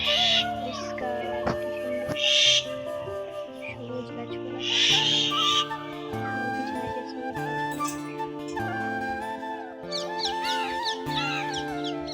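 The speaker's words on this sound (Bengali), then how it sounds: "কি সুন্দর পাখির আওয়াজ" Birds call outdoors from a rooftop amid green surroundings on a monsoon day: short bright chirps and calls come and go over a steady layer of sustained tonal sound.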